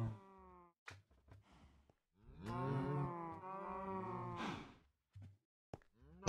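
Cows in a video game give a drawn-out moo in the middle, framed by shorter low grunts and a few sharp clicks, fairly quiet with no talking.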